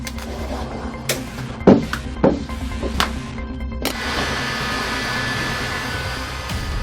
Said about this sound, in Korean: 각이 진 부분은 시공용 드라이기로 뜨거운 바람을 쐬어주는데요